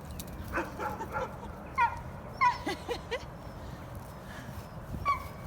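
A dog whimpers and lets out a few short yips and barks, fairly faint and intermittent, with some quiet outdoor background.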